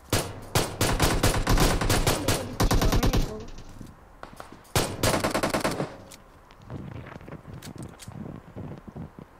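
Rapid bursts of automatic gunfire from a mobile shooter game played on an iPhone 8 Plus, loud and sustained in long volleys with short gaps, then scattered single shots.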